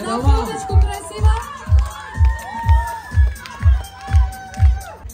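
Crowd at a resort party in Crimea cheering and shouting over loud rhythmic dance music with a heavy regular beat, voices rising and falling in the background throughout.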